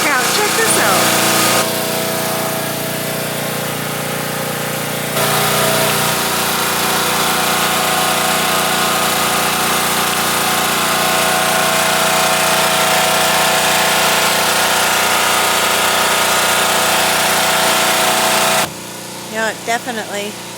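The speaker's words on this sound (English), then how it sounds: "Sorry about the noise of the generator." A generator runs to charge a battery outdoors in the woods after rain, a loud steady engine drone with broadband roar that holds for most of the stretch before dropping off near the end, with a voice briefly over it.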